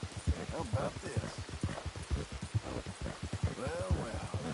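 A video game horse clip-clops in a steady run of hoof beats, moderately close and rhythmic, while someone talks over the hoof sounds.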